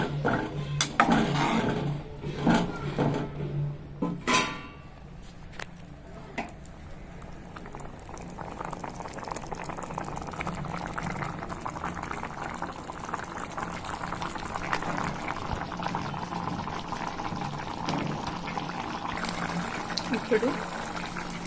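A pot of food simmering on a stove, a steady bubbling boil running throughout, with louder clatter and a voice talking near the start.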